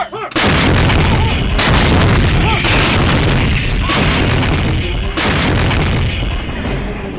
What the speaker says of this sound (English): but we're still bombarding them now.